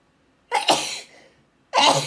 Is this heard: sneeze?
yes